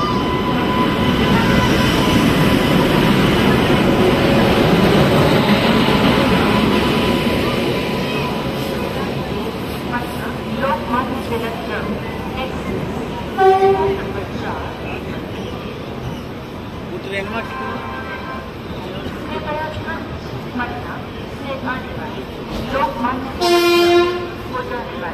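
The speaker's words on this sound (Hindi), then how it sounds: "फाइनली अपनी ट्रेन पूरे 3 घंटे डिले के बाद प्लेटफॉर्म नंबर 10 पे आ चुकी है, और इसमें कानपुर का WAP-7 लोकोमोटिव लगा हुआ है।" A passenger train hauled by a Kanpur-shed WAP-7 electric locomotive pulls into platform 10, its heavy rumble fading as it slows, with horn toots and station chatter and voices nearby.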